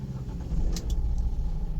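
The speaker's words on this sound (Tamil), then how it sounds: "வண்டி ஸ்டார்ட் ஆயிடுச்சு." A Toyota Etios car is started with a programmed flip key: a low engine rumble rises and settles into a steady nearby idle, with a couple of faint high clicks along the way.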